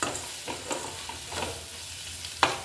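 Tomatoes being stirred into a pan of dried shrimp curry: a soft frying hiss with several distinct scraping stir strokes and one sharper clack near the end, close and unaccompanied by voices.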